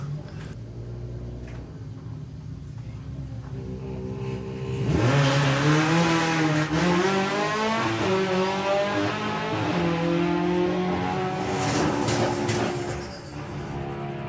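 A drag racing car labours down the strip at Santa Pod during Springspeed Nationals eliminations, its engine note rising and wavering loudly for several seconds before fading, with a commentator talking over it.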